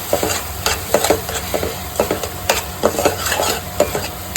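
A spoon scrapes and stirs masala spices around a cooking pan in quick, regular strokes with a faint sizzle underneath, close and clear with no talking.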